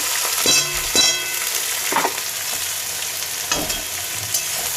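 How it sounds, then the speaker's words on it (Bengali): A steady, close sizzle of whole garam masala spices and onions frying in a hot pan, with occasional scraping stirs and spattering bursts. "গরম মশলাগুলো একটু ভাজা হয়ে গেছে তারপর এর মধ্যে দিয়ে দেবো পচানো পেঁয়াজগুলো"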